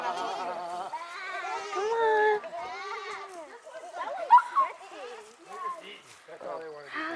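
Sheep and goats bleating in a farm pen at an Alaska ecology farm, several wavering calls overlapping close by, with people talking over and between them.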